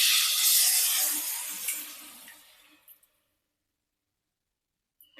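Boiled lentils (dal) poured into a pan of cooked-down spices for a musur dal and egg dish: a loud, continuous wet splashing pour for about two seconds that tapers off, then silence with a couple of faint clinks.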